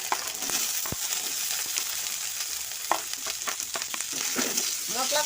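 Chopped onion, ginger-garlic paste and five-spice frying in hot oil, a continuous close sizzle with scattered crackles and spoon scrapes, no voices over it.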